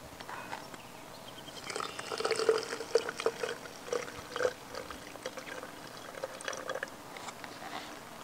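Water is poured onto sand in a permeability experiment, a quiet splashing trickle that swells in the middle and then settles into faint dribbling, with no talking.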